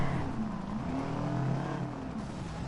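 A car in the Watch Dogs video game drives and revs with poor traction, a steady engine drone that rises and falls in pitch over a couple of seconds, moderately loud with no voices.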